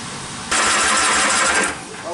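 Cranking of a flooded V6 engine in a homemade mini semi truck, a loud sustained churning burst of about a second that fails to catch, with people talking around it.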